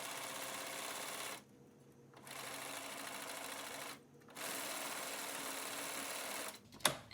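A sewing machine runs a wide zigzag stitch over metal wire sewn into a fabric face mask, with steady mechanical whirring in three bursts separated by brief pauses.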